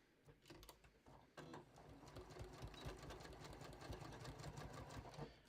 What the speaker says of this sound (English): All right, so now, all right, so I'm going to sew this.